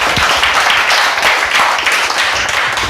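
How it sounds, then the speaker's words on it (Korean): Audience applause at a Korean civic security rally, steady dense clapping from a crowd sustained for about three seconds, fairly loud and without talk. "박수 쳐라."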